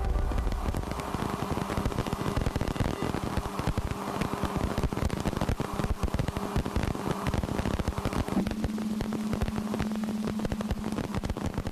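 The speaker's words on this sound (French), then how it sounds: "Ce que vous entendez, c'est le bruit des impacts de poussière sur les anneaux d'Uranus." Sonified recording of dust impacts on Uranus's rings: a steady, dense crackling patter like heavy rain or static, even in level throughout with no voices.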